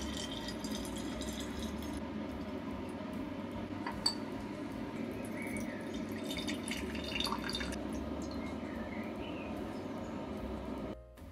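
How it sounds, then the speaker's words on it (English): Water drains slowly from a glass separatory funnel as a liquid layer is separated from isopropyl nitrite, a faint steady trickle with occasional soft glassy clinks and drips, quiet and close. "To separate it, I put the entire mixture into a separatory funnel and slowly drain the water layer."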